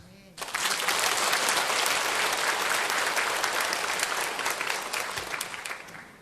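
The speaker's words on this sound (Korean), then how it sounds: "박수." A church congregation breaks into loud, sustained applause that starts abruptly and holds steady for several seconds before easing slightly at the end.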